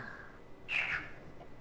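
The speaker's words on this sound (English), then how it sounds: "It's like a chirrup. Yeah, it's like a cricket" A brief cicada-like chirp from the game Riven, a single short bright burst rising out of a steady low ambient hum, fairly faint and alone.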